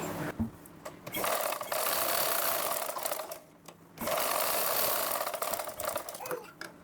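Sewing machine running in close-up, stitching the front and back parts of a lined blouse together, with two long steady bursts of whirring separated by a short pause.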